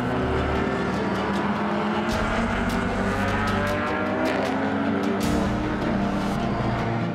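A race car at Watkins Glen during an endurance race, its engine droning loud and steady with shifting pitch as cars pass on the track, joined by sharp bursts of higher-pitched engine noise.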